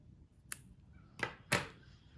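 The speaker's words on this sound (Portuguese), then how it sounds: "agora eu posso cortar o fio" Scissors snipping thick crochet tube yarn at the end of a handmade bag, three short crisp snips, close and quiet.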